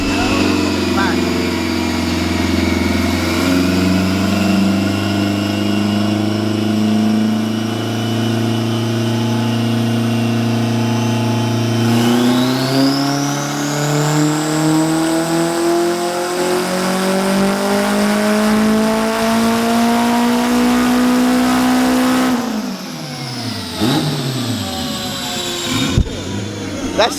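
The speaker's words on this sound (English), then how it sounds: "There's a car getting tuned." A car being tuned holds high revs, the engine's tone steady for a long stretch, then climbing and finally dropping away, loud and close with sustained droning pitch.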